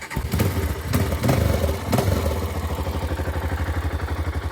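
A Yamaha motorcycle engine with stock exhaust cranks with a few sharp bursts, then catches and settles into a steady, close, rhythmic idle putter.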